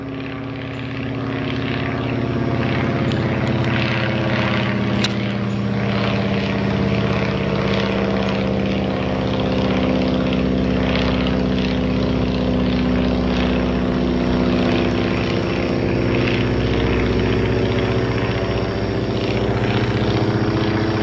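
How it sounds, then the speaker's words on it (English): An old biplane drones steadily overhead during a neighborhood walk, its propeller engine loud and sustained throughout with no talking. "old biplane flying overhead during my walk."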